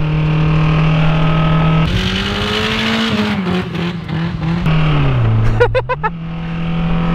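A homemade convertible mud car drives past and accelerates, the engine droning steadily, then rising and shifting pitch as it revs. Voices talk over the engine noise.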